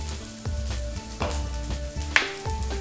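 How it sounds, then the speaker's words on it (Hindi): Ginger frying in a small spoonful of hot oil for a chawli soup, a steady close sizzle with a few soft stirring taps and one sharp clink, no voices. "एक छोटा चम्मच तेल, इसमें डालेंगे थोड़ा सा जिंजर"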